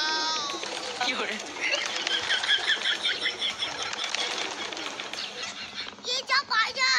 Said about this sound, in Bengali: এই যা পায়রা, এই পায়রার তো অনেক দাম